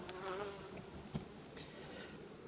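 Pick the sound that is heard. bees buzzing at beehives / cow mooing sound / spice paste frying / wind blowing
bees buzzing at beehives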